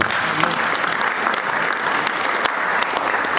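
A church congregation breaks into steady, dense applause, a close wash of many hands clapping continuously with no pauses.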